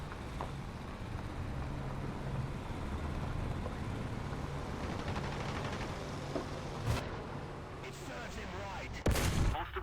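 Artillery fire in War Thunder's British tank battles: a continuous rumbling din of distant gunfire and explosions, with a couple of sharper, louder blasts toward the end.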